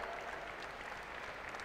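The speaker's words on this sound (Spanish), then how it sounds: "Se lleva ese aplauso también." Audience applause at the final of a Leonese wrestling team league, a steady wash of clapping that fills the short moment from start to end without any voices above it.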